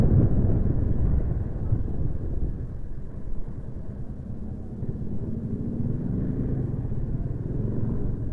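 A car drives along with a steady low engine rumble and road noise from inside the cabin, fairly loud and continuous with slight swells, no one speaking.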